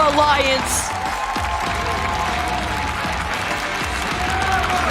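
A packed arena crowd at the Apex Legends ALGS Championship in London applauds and cheers in a steady, dense roar, with a commentator talking over it throughout.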